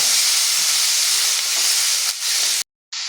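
Red beans tipped into a hot pan of well-browned seasoning, giving a loud, steady close hiss of sizzling that cuts out abruptly near the end, no voices.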